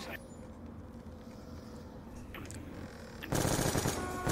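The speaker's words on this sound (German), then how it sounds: "ich schieße hier einfach nur auf die alle ab" Gunfire in Call of Duty: Black Ops 2 Zombies, a run of game shots under a player's commentary, ending in a loud burst of rapid automatic fire near the close.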